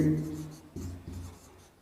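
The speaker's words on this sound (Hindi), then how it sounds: "जिस विधि से करना उस विधि का नाम इधर लिखेंगे यूक्लिड" Strokes of writing on a board during a Class 10 maths lesson come through as short scratchy marks, close and moderate in volume, with a teacher's voice heard briefly at the start.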